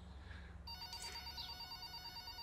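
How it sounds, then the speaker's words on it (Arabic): A telephone bell rings in a comedy sketch, starting partway through and continuing as a steady, fairly loud ring with no talk over it. "التليفون بيرن قوم رد"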